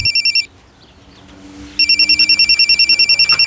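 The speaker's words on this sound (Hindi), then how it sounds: "जब मैं लोडिंग कर रहा था तब अचानक बलराम जी का फोन बजा" A mobile phone rings while a truck is being loaded, a rapid electronic trill in two bursts with a short gap of quiet between them, loud and close.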